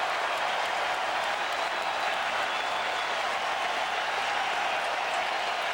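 Baseball crowd at a 2003 NLDS playoff game between the Atlanta Braves and Chicago Cubs cheering pitcher Mark Prior, a dense, steady wash of applause and crowd noise throughout.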